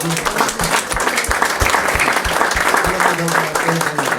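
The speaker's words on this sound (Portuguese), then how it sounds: "Uma salva de palmas pelo amor de Jesus." Church congregation applauding together, a dense steady clapping close by that continues without break, with voices mixed in underneath.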